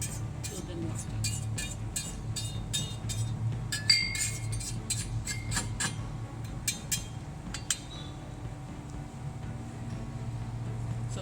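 Sulfathiazole powder is worked in a mortar with a pestle. Repeated light clinks and scrapes of the pestle against the mortar come in irregular clusters over a low background hum.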